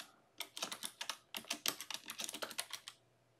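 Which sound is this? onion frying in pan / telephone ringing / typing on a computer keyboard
typing on a computer keyboard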